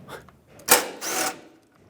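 A wrench works loose two 10 mm bolts on a 2012–2020 Ford Focus during an AC condenser replacement, giving a couple of short, close metallic ratcheting bursts within a quiet moment.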